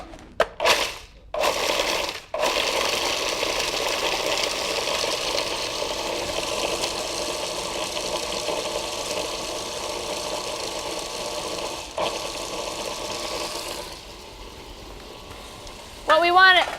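Food processor grinding a date crust mixture with vanilla added, a steady loud whirring grind with brief pauses and restarts near the start and a short break near the end.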